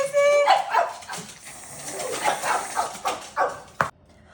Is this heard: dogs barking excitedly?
yes